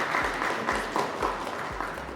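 Applause at an announcement event, a continuous patter of many hands with dense broadband texture and soft periodic low thumps beneath, steady and moderately loud for the whole stretch.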